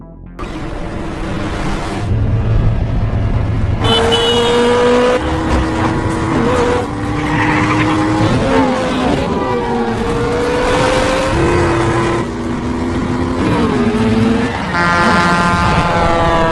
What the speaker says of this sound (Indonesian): Jimmy diburu oleh Mario, sehingga aksi kejar-kejaran mobil tidak dapat lagi dihindari